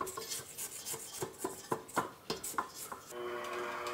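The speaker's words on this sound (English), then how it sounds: "I'm gonna stop this and scrape down those sides" A spatula scrapes around the sides of a mixing bowl of applesauce cake batter, giving a run of close, repeated rubbing strokes and clinks. The scraping gives way to a steady tonal hum in the last second.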